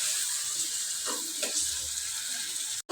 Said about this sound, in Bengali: ভালো করে মশলাটা কষাই দেব।